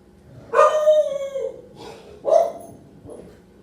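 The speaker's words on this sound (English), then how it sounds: "The last time she barked like that" A dog lets out a long drawn howl followed by two shorter bark-howls and a faint trailing yelp, close and loud against a quiet background, with no talking.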